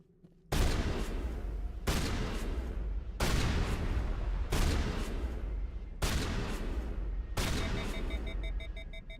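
Weapon fire in Mass Effect comes as six sustained roaring bursts of about a second each, spaced evenly with brief pauses, loud and close.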